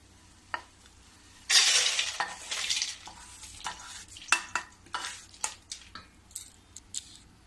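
An ingredient roasting in a kadhai over low gas crackles and sizzles, with a dense burst of frying noise followed by a run of sharp, irregular pops and stirring scrapes, close and fairly quiet.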